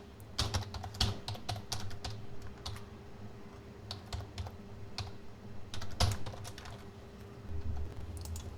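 Code is typed on a computer keyboard in Visual Studio in uneven bursts of close, crisp key clicks, with short pauses between flurries and a faint steady hum behind.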